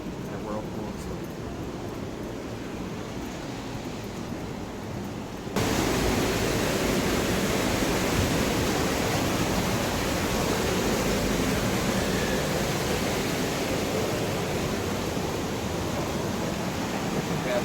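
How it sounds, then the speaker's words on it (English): Waterfall at the Wisconsin Dells seen from a tour boat, a constant broadband roar of falling water that starts softer and jumps louder partway through, then holds steady, loud and continuous. "Wow. Waterfall."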